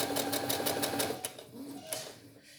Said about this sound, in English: So you can lift the presser foot, align it slightly, and then try and sew